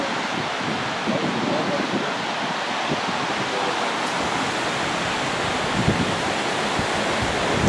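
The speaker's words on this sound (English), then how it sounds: "Still a bit windy today, but on this side it is picks up most of the wind." Strong wind at Senga Bay, Malawi roars and buffets continuously against the microphone, a dense rushing noise with occasional gusts and no clear voices.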